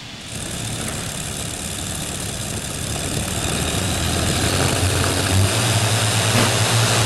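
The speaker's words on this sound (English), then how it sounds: "Twin Allison aircraft engines," A modified pulling tractor powered by twin Allison aircraft engines gives a steady, loud engine drone that builds slightly over several seconds, with no voices over it.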